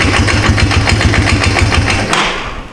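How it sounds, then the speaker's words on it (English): Abandoned Yamaha 250 Timberwolf ATV engine idling after its throttle adjustment screw is turned in, a close, rapid, even putter of low thumping pulses that suddenly drops away near the end. "And I turned it in and started idling down."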